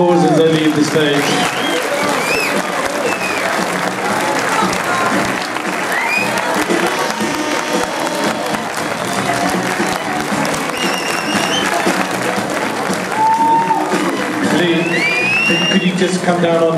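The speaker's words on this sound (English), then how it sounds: "big round of applause as they leave the stage" A bodybuilding contest crowd at NABBA Universe 2013 keeps up sustained, loud clapping and scattered cheers as the competitors leave the stage, with voices and shouts woven through the continuous applause.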